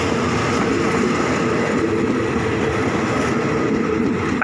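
Express train 102 pulls out of a Thai station, its last car rolling past close by with a steady loud rumble and rhythmic wheel clatter throughout.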